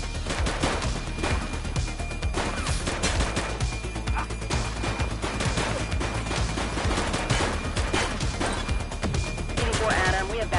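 Sustained heavy gunfire in the police game The Precinct, with dense rapid shots and bursts over constant loud action and no pause.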